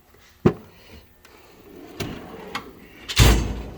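A metal toolbox drawer in a home garage shop slides and thumps, with sharp knocks and a louder rolling slam near the end, no talking.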